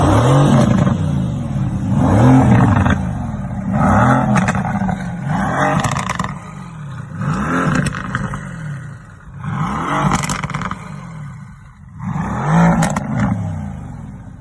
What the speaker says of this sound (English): I think Mrs. No Endless Time or No Endless Time roommate is going to rev the car. Let's listen to this engine purr.